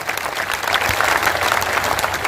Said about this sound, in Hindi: तो एक बार इस छारा गांव के लिए जोरदार तालियां बजा दो